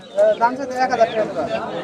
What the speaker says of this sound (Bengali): এখানে আরো কবুতর আছে তো অনেক অনেক কবুতর আছে